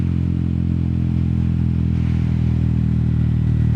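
A Yamaha XSR 155 motorcycle with a quick shifter runs hard down a straightaway, giving a loud, close, sustained engine drone with a slight tonal shift midway.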